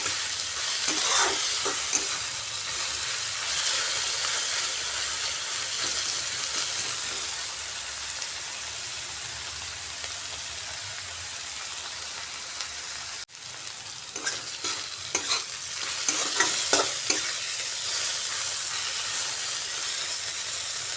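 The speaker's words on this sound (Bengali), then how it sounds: "আর একটু কড়া করে ভাজতে হবে পেঁয়াজটাকে।" Chopped onions frying in a pan for a rohu fish curry, with a continuous moderate sizzle and hiss and occasional stirring scrapes, heard alone without talking.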